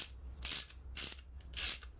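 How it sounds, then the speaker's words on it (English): Ratchet pipe cutter worked on thick three-quarter pipe, three distinct bursts of crisp ratcheting clicks in an even rhythm, close and fairly quiet with pauses between strokes. "it's a ratchet cutter, so what you do, it'll go to any size"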